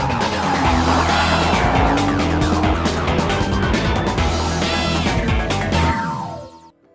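A 2014 Lexus IS F being driven hard, a loud continuous engine roar with tire squeal and rushing road noise throughout, fading out sharply at the very end.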